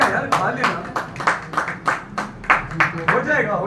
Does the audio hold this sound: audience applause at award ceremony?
yes